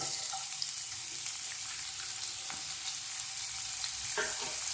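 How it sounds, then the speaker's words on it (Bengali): Small chopped onion dropped into hot oil left over from frying pomfret fish, making a dense, loud, continuous sizzle with faint stirring noises and no talking. "মাছ ভাজা তেলে দিয়ে দিচ্ছি একটা ছোট সাইজের কুচানো পেঁয়াজ"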